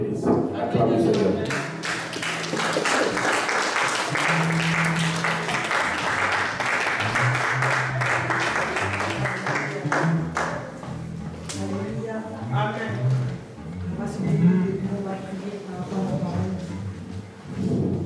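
A church congregation claps and applauds in praise, a dense sustained burst of many hands that swells then gradually thins out, with voices and cheering mixed throughout.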